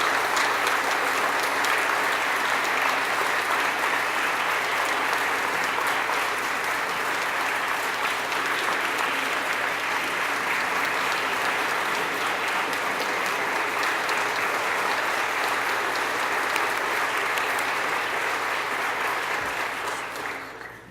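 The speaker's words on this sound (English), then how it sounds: "Give them a big applause." Sustained applause from a banquet audience at a teacher of the year awards dinner, steady dense clapping filling the room for about twenty seconds before tapering at the end.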